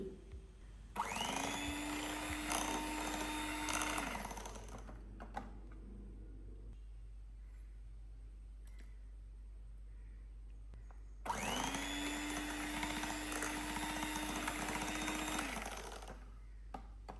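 Eggs for a Basque burnt cheesecake beaten with an electric mixer, which runs steadily for about three seconds, stops, then runs again for about four seconds; a loud, close whine over a low background hum.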